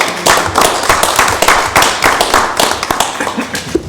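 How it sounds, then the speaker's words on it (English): A small audience at a borough council meeting in Tenafly applauds the municipal clerk, a loud, close round of uneven clapping that holds steady for the whole stretch. "How about a round of applause for our clerk?"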